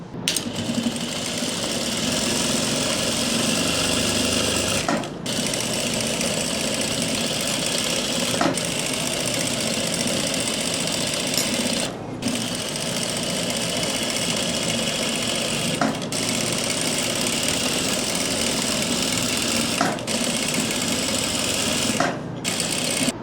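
An electric sewing machine runs two rows of stitching along an elastic waistband of palazzo pants from the reverse side. It whirs in long, even runs with short pauses every few seconds.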